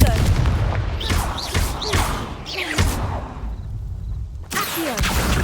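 In Hogwarts Legacy, Confringo blasting spells explode again and again with sharp booming thuds and whooshes, loud and close. A voice is also heard in the mix.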